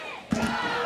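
A wrestling crowd roars at a JCW X-Treme Games match, a brief sustained burst of cheering and shouting that swells suddenly partway through and holds steady.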